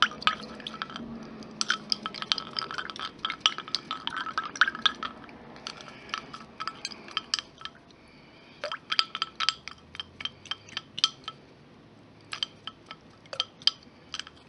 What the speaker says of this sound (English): what I do is I stab it into the bottom of the cup.